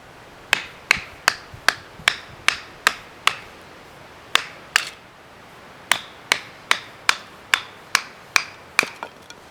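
Sharp, rhythmic wooden knocks repeat steadily, about two per second, with a brief pause midway; loud, close, and dry, as a Bark River Northstar EDC knife is batoned to quarter firewood.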